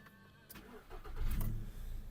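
A 2007 Volkswagen Golf Plus with a 1.6 MPI petrol engine cranks and catches, its engine rising to a rumbling idle that swells briefly before settling, close by and with no talk.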